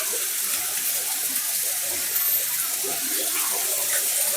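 Strong, steady rush of water pouring continuously as someone bathes at a secluded house, broad and hissing, close and loud without breaks.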